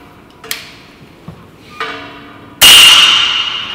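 A Gunpower Shadow pre-charged airgun with an integral silencer, fired indoors in a resonant room: a few light mechanical clicks of cocking, then one loud sharp report whose ringing tail lingers and slowly fades.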